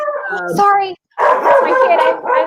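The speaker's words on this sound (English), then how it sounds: "That's my dog." A pet dog barks and yips in a home during a live chat, with short excited vocal bursts mixed with and partly under a person speaking nearby.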